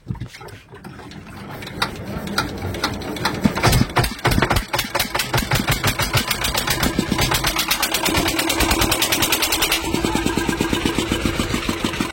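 A boat engine starts up, then chugs steadily in a fast, even rhythm that grows louder and holds at close range, with a brief voice early on.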